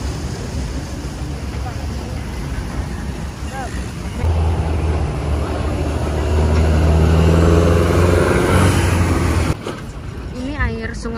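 A boat engine drones while crossing a river in Bangkok, Thailand, growing louder midway, with wind buffeting the microphone and people talking over it.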